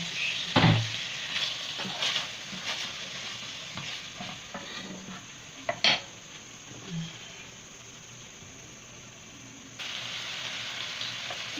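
Pepper fries in a pan for jollof noodles, a steady soft sizzle with occasional stirring clatters and scrapes, close by and without talk.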